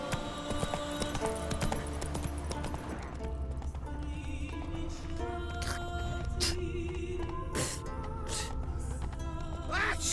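Geralt's horse Roach trots in The Witcher 3, rhythmic hoof clip-clops steady throughout over game music and ambient sound, with occasional sharp clanks and a faint whinny.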